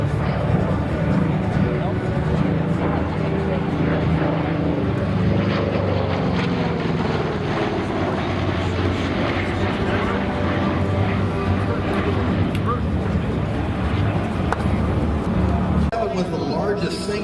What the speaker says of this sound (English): Vasquez brings his P-47 in for an opening photo pass.